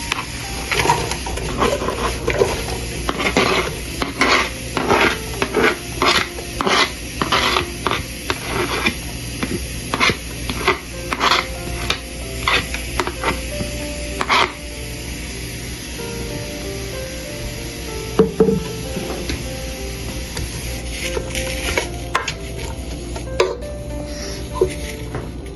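Onions, followed by garlic and ginger, frying in a pan on a stove at full heat: a steady loud hiss and sizzle, broken by repeated scraping clatters of stirring.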